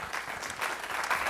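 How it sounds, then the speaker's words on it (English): Brief audience applause greeting a speaker being introduced at a mental health awareness event, a steady moderate patter of many hands clapping, slightly distant. "If you guys can give her a round of applause, please."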